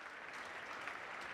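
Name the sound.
audience clapping at PlayStation E3 2018 showcase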